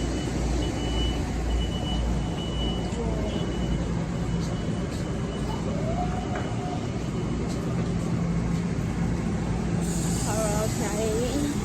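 A train at Mineola station rumbles steadily close by with a low, continuous mechanical drone, faint tonal squeals and a high hiss near the end, heard from aboard or beside the train.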